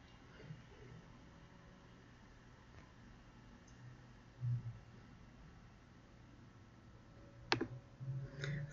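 Computer mouse clicks, faint and sparse against a quiet background hum, with a sharp click near the end followed by a few softer taps.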